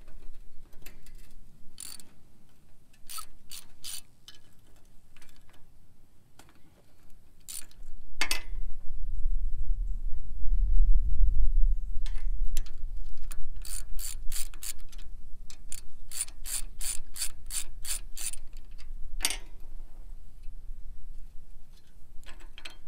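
Rock guards come off a New Holland 451 sickle bar mower in a run of sharp metallic clicks and clanks, sparse at first and then in quick clusters, with low handling rumble between them.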